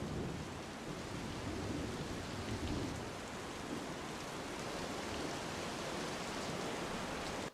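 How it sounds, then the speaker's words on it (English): Steady rain recorded in a city setting, a dense, even wash of drops that holds at a constant level with no breaks. It sits at a moderate level with no voices. "the first rain recording."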